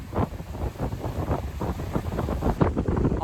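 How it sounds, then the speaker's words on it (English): Strong wind gusts roar across a microphone on a Southern Ontario lake shore beach, a steady buffeting rumble with rising and falling bursts and no voices. "The wind has picked up a lot since then"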